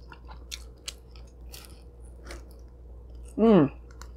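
A huge cheese pizza slice is chewed up close in soft, wet bites, with a brief hummed sound of enjoyment near the end.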